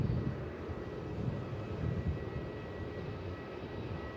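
An Air India airliner climbing out after takeoff from Melbourne Airport, heard as a steady, fairly faint broadband jet rumble at a distance, with no talk over it.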